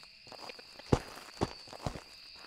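Heavy stomping footsteps in the Phasmophobia ghost-hunting game, three distinct thuds roughly half a second apart against a quiet background with a faint steady electronic hum.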